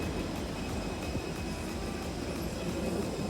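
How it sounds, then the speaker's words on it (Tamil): A passenger airliner cabin on a flight from Dubai to Georgia carries a constant, even roar of engine and air noise, a steady broadband drone with no breaks. "அடுத்து ஃப்ளைட்டில் இருக்கிறோம்."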